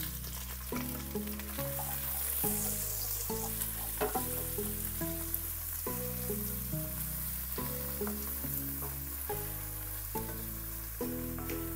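A large onion sautéing in a pan for kare-kare pata, a soft, steady sizzle running continuously beneath looping background music, with no voices.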